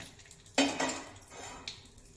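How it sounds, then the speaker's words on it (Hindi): Pointed gourd (parwal) pieces tipped into a pan of hot mustard oil, a sudden clattering sizzle burst that settles into a softer crackling fry, with a second small clink near the end; no talk. "अब डालिए सभी परवल इसमें"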